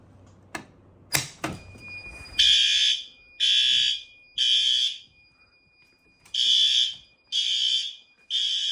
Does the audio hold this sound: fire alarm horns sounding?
yes